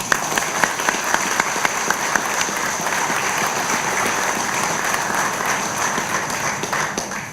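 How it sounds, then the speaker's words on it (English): Sustained audience applause at a Union County reorganization meeting in Linden, a dense steady wash of many hands clapping with a few sharper individual claps near the front, carrying on evenly for several seconds. "he deserves a round of applause for his dedication"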